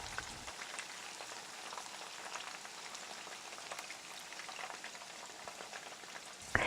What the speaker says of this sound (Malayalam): ഇതുപോലെ ബാക്കിയുള്ള ചിക്കനും വറുത്ത് കോരുക.